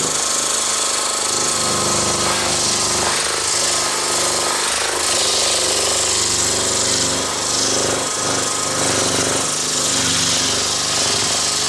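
Harsh, buzzing sander attachment on a cordless power screwdriver grinding against wood, loud and continuous with slight variations in pitch and pressure.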